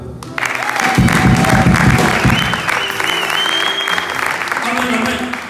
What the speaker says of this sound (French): Est-ce qu'on pouvait acclamer pour vous?